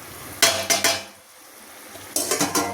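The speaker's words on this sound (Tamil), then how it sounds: "இந்த சமயம் இந்த மசாலையெல்லாம் சேர்த்துருவோம்." A spoon scrapes and clatters against a pan in short bursts as masala is stirred into onions frying in oil, with a quiet gap of low sizzling between two clusters of stirring strokes.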